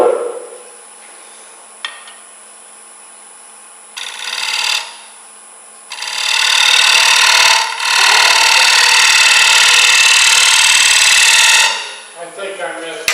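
A hand scraper drawn across wood in a woodworking demonstration, a few short rasping passes followed by a long, loud, sustained scrape lasting several seconds, close up, with a steady background tone.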